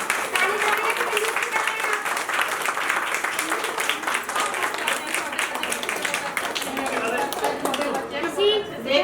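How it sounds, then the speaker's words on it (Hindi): Dense, continuous applause from an audience for children after a school play of the Ramayana fills the whole stretch, loud and close, with a person speaking over it. "और ताली बजाइए इनके लिए बच्चों के लिए।"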